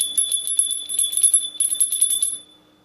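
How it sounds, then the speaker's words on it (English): A small hand bell rings repeatedly in quick shaking bursts, bright and close, with a brief pause midway before the clanging fades into a ringing tail. "let me ring the bell"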